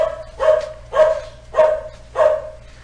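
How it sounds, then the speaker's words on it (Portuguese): A small dog barks four times in an even rhythm, each bark loud and close with a clear pause between them and no talking over it. "Com participação especial do cachorrinho"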